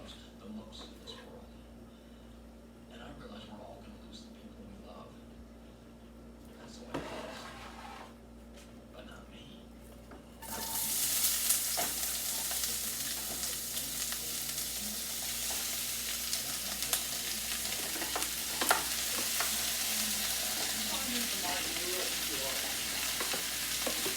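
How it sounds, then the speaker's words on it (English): Peppers and onions drop into a hot pan and begin frying with a loud, steady sizzle that fills the second half, after a quieter stretch of faint kitchen handling. "So I'm gonna put the peppers and onions in here now."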